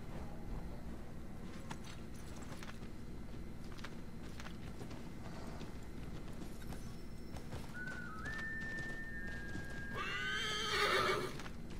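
A horse in a video game, with hooves clip-clopping steadily throughout and a loud whinny near the end, heard close and clear with no talk.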